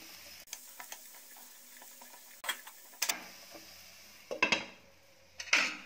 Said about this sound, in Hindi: अब इसे मिक्स करेंगे और 1 मिनट इसको ढक के और पकाएंगे